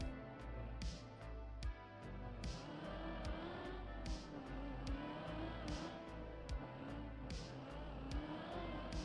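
A car races through the Deep Dip 2 tower map in the Trackmania video game, with a steady engine drone broken by repeated sharp thuds and clacks of landings and bumps.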